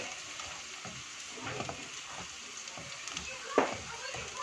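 Garlic sautés in a pan until light to medium brown as the base for chili garlic prawns, giving a steady close sizzle with occasional stirring scrapes and utensil taps.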